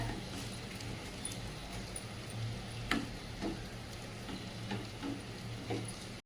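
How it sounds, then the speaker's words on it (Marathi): Moong dal halwa with sugar and soaked saffron being stirred in a pan, a quiet steady sizzle with soft spoon scrapes and taps at irregular intervals. "आता आपण चांगलं हलवून घेऊया छान शिजू देऊया"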